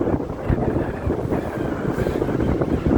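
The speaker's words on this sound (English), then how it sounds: "Wind's picking up." Strong coastal wind buffets the microphone while cycling into a port at the tip of Jindo Island, South Korea, a steady loud low rumble with gusty fluctuations and faint surf-like wash underneath, no talking.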